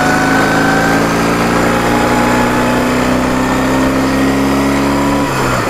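A motorcycle that has been losing power pulls away under load, its engine note droning loud and steady through the gears before dropping off sharply near the end.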